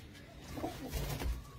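Pigeons kept in rooftop coops in a Punjabi village coo softly and low, a few muffled throaty calls close by against faint background noise, with no talk.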